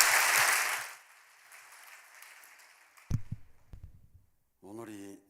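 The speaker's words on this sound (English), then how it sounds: "Why don't we give a big round of applause, of encouragement and great gratitude." Audience applause at a religious gathering, a loud burst of clapping that fades out within the first second, followed by quiet, a few knocks, and a voice speaking at the end.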